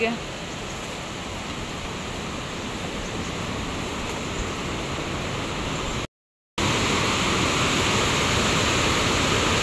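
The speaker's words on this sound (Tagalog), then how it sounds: "Ang taas po na yan ay Pinlock Falls" Pinlock Falls roars in a constant, dense rush of falling water, broken by a brief cut of silence before resuming.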